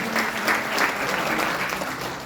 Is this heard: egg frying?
no